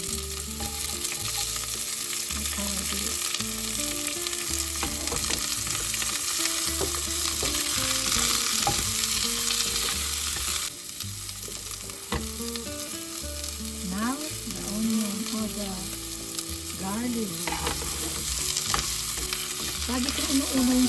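Onions sautéing in olive oil for beef caldereta, a loud, unbroken sizzle up close, with rhythmic low knocks and scrapes of stirring throughout.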